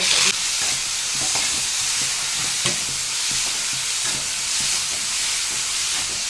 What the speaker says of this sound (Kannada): ಸ್ವಲ್ಪ ಹಸಿ ವಾಸನೆ ಹೋಗೋ ತನಕ ಸ್ವಲ್ಪ ಫ್ರೈ ಮಾಡ್ಕೊಳ್ಳೋಣ ಇದನ್ನು